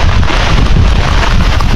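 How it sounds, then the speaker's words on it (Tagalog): Strong, gusty wind ahead of a typhoon in Bicol buffets the microphone with a loud, continuous low roar and no pauses. "pauwi na kami mga kabayan ngayon kasi lumalakas na yung hangin"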